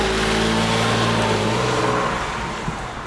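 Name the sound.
Porsche 911 engine running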